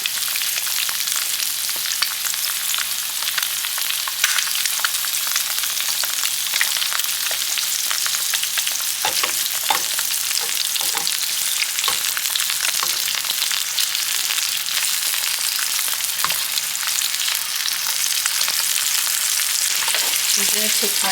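An egg and sausages fry in a pan with a steady, crackling sizzle and occasional sharper pops throughout, and no one speaking.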